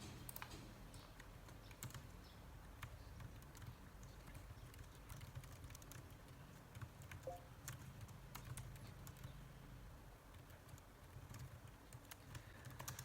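Rapid typing on a computer keyboard, a steady stream of light clicks and taps close by over a low background hum, with no talking.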